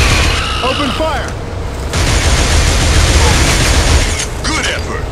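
Gunfire and booming blasts fill a misty waterside battle in the PS2 shooter Killzone, loud and continuous, with shouted voices over the din.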